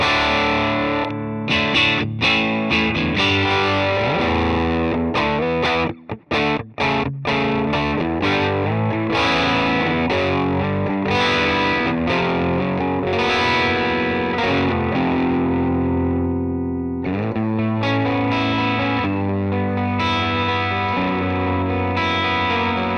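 Distorted electric guitar through a Mesa Boogie amp capture in ToneX plays loud chugging chords and riffs, with brief stops and sustained ringing notes, alone without talk.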